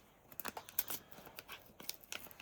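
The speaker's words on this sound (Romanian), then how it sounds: "Rupi pachetul mai tare." Faint crinkly tearing and ripping of a thin FIFA World Cup sticker packet in short bursts, quiet and close, with no talking.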